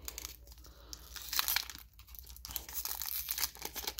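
Scissors cut open the crinkly plastic wrapper of a Magic: The Gathering Portal Three Kingdoms starter set, giving faint, close snipping and crackling with irregular tearing and rustling bursts and no talk.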